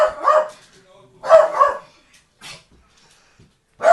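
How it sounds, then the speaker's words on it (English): A pet dog gives a few sharp, close barks and yips in separate bursts with quiet gaps between, indoors while someone plays a mobile game. "So that's my dog."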